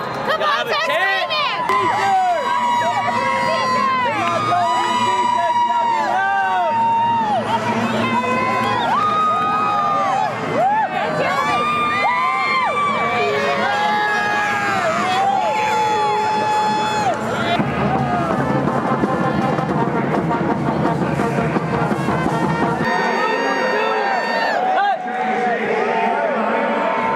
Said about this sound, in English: Come on, start screaming!